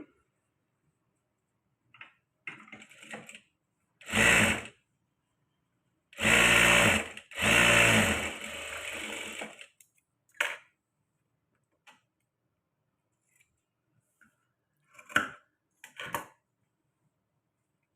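A sewing machine stitches a blouse in several separate bursts, some short and some running a couple of seconds, loud and close, with quiet pauses and small handling clicks between runs.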